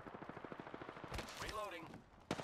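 Enemy gunfire in a PC match of Apex Legends, a rapid string of quiet shots under a player's voice, then a short sharper burst at the end.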